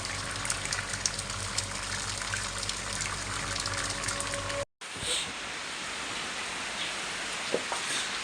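Heavy monsoon rain pours in a dense, steady hiss outdoors, broken by a brief silent gap partway, then continuing with a gushing spatter.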